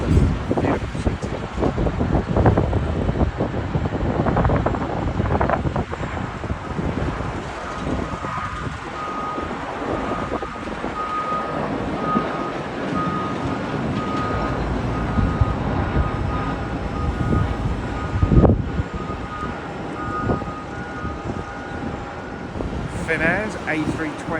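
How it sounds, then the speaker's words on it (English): A British Airways Airbus A320 arriving at Heathrow from Lisbon, a loud, sustained jet roar that swells and fades, mixed with airport ground noise and a reversing beeper, with a voice talking over it. "is a British Airways Airbus A320. It's arriving at Heathrow from Lisbon."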